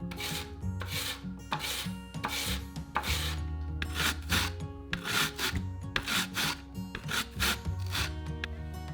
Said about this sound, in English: We're going to julienne the cabbage and carrots using a mandolin.